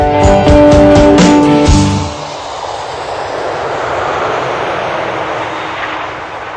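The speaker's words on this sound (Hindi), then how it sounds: "जहाज जयपुर में उतर चुका था।" Airplane landing as a radio drama sound effect: a loud roaring jet engine with a rising whine fades into steady rushing turbulence and rumble of the aircraft rolling, with no voices.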